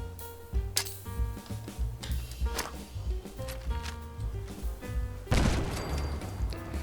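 Frag grenades thump and burst amid scattered gunfire during a Fallout 4 fight with mirelurks, under a pulsing game music bed, with one louder blast near the end.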